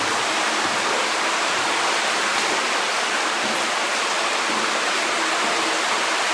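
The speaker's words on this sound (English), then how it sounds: "There's a couple places here where the creek's a couple inches deep." A shallow creek runs through a cave, its water rushing in a steady, dense hiss that stays loud and unchanging throughout, with no voices.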